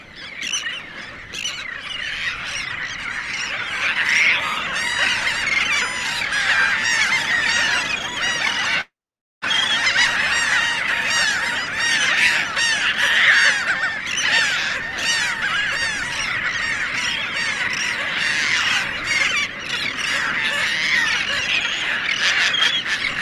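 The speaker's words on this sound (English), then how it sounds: "Gulls are really loud. They always dominate the landscape." Dense chorus of gulls and terns calling on a shore bank, loud overlapping squawks and cries continuing without pause across the recording, broken only by a brief moment of silence midway; no voices.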